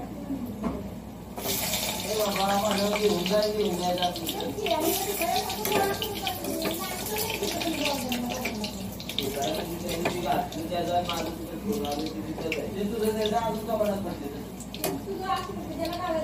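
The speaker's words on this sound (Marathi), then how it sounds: "बघा ह्या स्माइली मी भाजायला टाकले फ्राय व्हायला" Smiley potato snacks sizzle and bubble in hot oil in a home kitchen, a steady frying hiss running throughout while someone talks over it.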